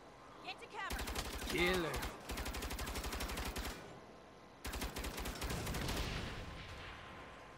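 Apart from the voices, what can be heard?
tank turret firing in Saints Row video game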